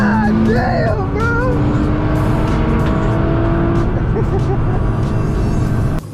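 A 1,400 horsepower Dodge Viper accelerates hard, its engine roaring loud and close with rising, sustained revs and a faint tire squeal, while people talk over it throughout.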